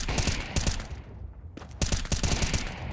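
Rapid gunfire in Counter-Strike during a professional esports match, with bursts of shots, a brief lull, then renewed firing.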